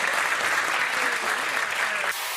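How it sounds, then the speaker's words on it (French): Studio audience applause for Johnny on a French TV talk show, a steady dense wash of clapping at moderate distance that drops off abruptly near the end, with faint voices under it. "j'espère qu'on va tous applaudir Johnny."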